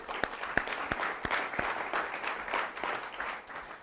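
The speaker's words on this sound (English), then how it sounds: "Let's give them another round of applause" An audience at a graduation ceremony claps, giving steady applause with a few sharp, close individual claps standing out over the crowd, and no one speaking.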